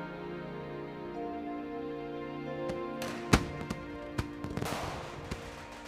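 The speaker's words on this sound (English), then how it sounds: "people set off firecrackers to welcome the spring and pray for good fortune" Firecrackers set off for Chinese New Year, a series of sharp cracks and pops clustering in the last half, standing out over a steady tonal background with no talk.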